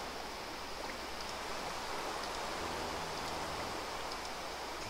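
Steady rain in the video game Minecraft hisses evenly throughout, a dense wash of falling water with no pauses and no voices.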